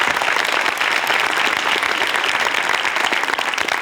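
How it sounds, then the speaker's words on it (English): Dense, sustained applause from a studio audience on a talk show set, loud and close, filling the space without a break. "a big round of applause for him"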